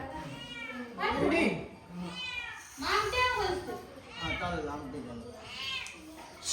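A house cat meows repeatedly in loud, drawn-out rising calls, several in a row, close by, with voices of people talking around it.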